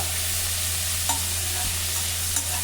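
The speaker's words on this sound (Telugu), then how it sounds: "ఇప్పుడు మన తాలింపు వేగిపోయింది" Tempering spices for a cluster bean curry sizzle and crackle in hot oil with a steady hiss, punctuated by a few soft clinks of stirring.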